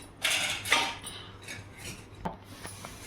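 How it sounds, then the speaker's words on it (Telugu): A metal kadai set down on a stove while making katte pongal, giving a few close clanks and scrapes of metal against the burner, with a sharper knock near the end. "బాణలి పెట్టుకొని స్టవ్ వెలిగించుకొని ఒక 2 టేబుల్ స్పూన్లు తీసుకున్నాను"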